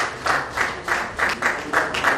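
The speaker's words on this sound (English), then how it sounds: "A round of applause for Group 5." A conference audience claps for a presenting group, a small burst of applause with individual claps audible as an uneven, rhythmic patter at moderate distance.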